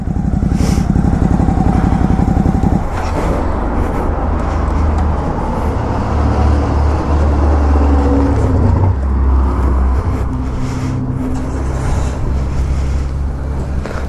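A 2019 Ducati Hypermotard 950 engine runs loud and close, a steady throbbing idle at first, then a rising rev and a sustained rough, uneven drone as the bike pulls away.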